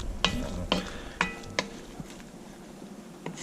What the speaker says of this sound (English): See that butter and now the meat